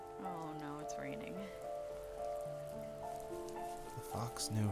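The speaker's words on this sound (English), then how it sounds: "Oh no, it's raining." Rain falling in the video game The First Tree, a steady patter running under a soft, melodic game soundtrack.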